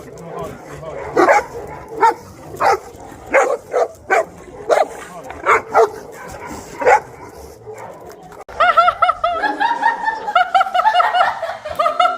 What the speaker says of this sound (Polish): To on uwielbia najbardziej drażnić te swoje psy.